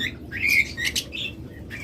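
Caged lovebirds and yellow-collared birds give sharp, quick chirps and squawks in short clustered bursts, close by over a low background murmur, with no speech.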